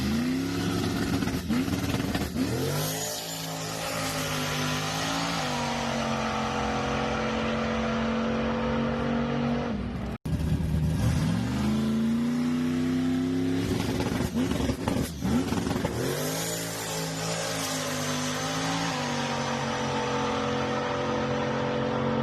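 A tuned drag race car making a pass down the strip, engine revving hard through rising gear pulls with a brief break midway, loud and close, its roar dominating throughout.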